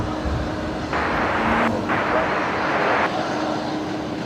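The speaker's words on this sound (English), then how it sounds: "One of the A380s just departing off of runway 19 right there." Qantas Airbus A380 departing off runway 19, a broad steady jet engine roar heard from a distance that swells for a couple of seconds in the middle, briefly dips, then fades back into a constant background rumble.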